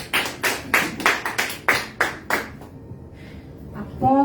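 A church congregation claps in a steady rhythm for about two and a half seconds, loud and close. The claps then stop, leaving a quiet pause before a voice starts speaking.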